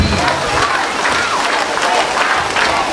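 Party guests applaud for Bella's 10th birthday, a dense, steady burst of clapping from a close crowd that lasts throughout, with a few voices mixed in.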